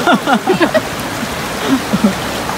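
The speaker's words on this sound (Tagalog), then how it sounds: "Sobrang lakas yung agos" Strong water current rushing at Sabsaban Falls in Palawan, a steady broadband roar running through the whole stretch beneath a voice talking close by.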